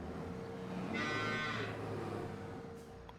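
Brown Swiss cows mooing on a farm near a shed, one long loud low moo rising and falling over about a second, with quieter farm background before and after.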